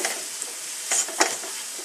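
Chicken biryani is stirred as it fries in a pan, giving a steady close sizzle with a couple of louder scraping stirs and no talk.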